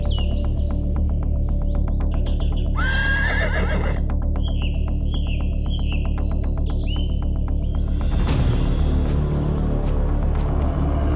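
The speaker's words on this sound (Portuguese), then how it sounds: "Uma zebra percebe o perigo e relincha alto, quebrando o silêncio." A zebra in the Okavango wilderness lets out a single loud whinnying neigh about a third of the way through, over a steady low drone and a dense pattern of chirping birds or insects.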